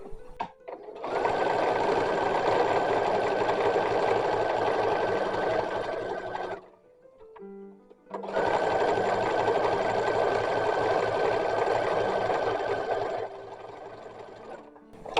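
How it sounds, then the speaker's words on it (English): A sewing machine stitches two fat quarters of fabric together for an 1860s cloth doll, running in a loud, steady whir for about six seconds, pausing briefly, then running again just as loud for several more seconds. "I have 2 fat quarters, so I am having to sew them together"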